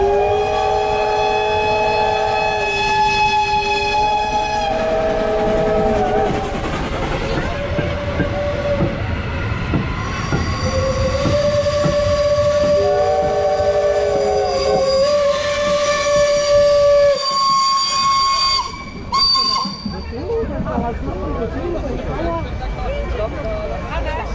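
Steam locomotive ENERGIE 507 passes with a train, its whistle sounding in repeated loud blasts over heavy rumbling and rail clatter close by, with voices of onlookers mixed in.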